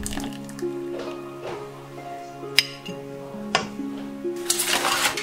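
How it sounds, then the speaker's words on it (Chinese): Boiled eggs are lifted out of salted boiling water in a pot, with watery drips, soft splashes and a few sharp clinks against the cookware, close and fairly clear. "水开以后捞出鸡蛋"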